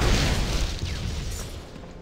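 A Prismatic Bolt spell explodes in Torchlight II with a loud, broad boom that rumbles and slowly fades, with a faint swooshing tail.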